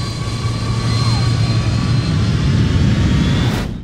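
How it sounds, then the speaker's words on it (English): Jet airplane engines with pitch-shifted, modulated whine for film sound design, a loud continuous roar with a sustained high tone and a brief downward pitch bend, no voices. "The engines that we hear are jet airplane engines, but they are modulated by me in terms of the pitch"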